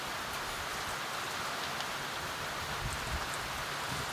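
Steady rain pours down in a dense, even hiss with scattered drop patters throughout, with no talking over it.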